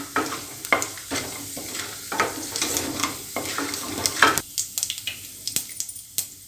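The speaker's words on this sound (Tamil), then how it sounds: "கடலைப்பருப்பு நல்லா கொஞ்சம் பொன்னிறமாக ஆகட்டும்." Chana dal fries in a pan for vegetable rice upma, a steady sizzle broken by repeated sharp scrapes and taps of a utensil stirring against the pan.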